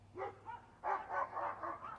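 A dog barks and yips in a short run of quick, moderately loud barks, fairly close by.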